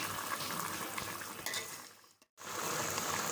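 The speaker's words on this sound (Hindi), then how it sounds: "तो अब इसकी कर लेंगे अच्छे से भुनाई।" Beef browning with stirring in a pot for pulao, a steady close sizzle with scraping stir sounds throughout, briefly cutting out near the end before resuming.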